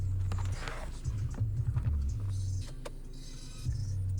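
A car moves through a dark school parking lot at night, a low engine hum with small knocks and clicks nearby, fairly faint and steady throughout.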